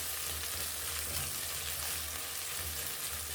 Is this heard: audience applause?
no